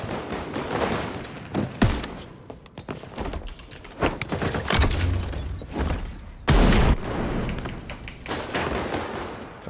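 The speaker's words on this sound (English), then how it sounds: "flashbang." Gunfire and a flashbang in a video game, loud sharp bursts and cracks scattered irregularly, with a heavy blast around the middle and busy clattering between shots.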